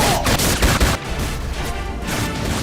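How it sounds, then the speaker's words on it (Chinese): In a Pacific War battle film, US Dauntless dive bombers strike a Japanese carrier fleet, and the scene is full of loud, continuous bursts of gunfire mixed with crashing blasts. "美军无畏式俯冲轰炸机神兵天降般地出现在南云机动舰队的上方。 俯冲，轰炸"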